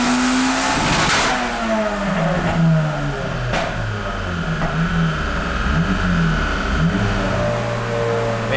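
A turbocharged Honda VTi car engine revs hard up to its limiter, a loud, continuous close-up roar with rising and falling pitch sweeps and brief bouncing at the cutoff, with no talking.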